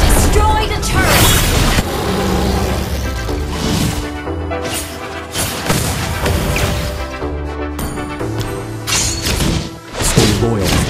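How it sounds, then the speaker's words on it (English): A turret being destroyed in Mobile Legends, with heavy crashing booms and thuds among dense battle effects and music, loud and continuous, with in-game voice lines over it. "Your team destroyed a turret!"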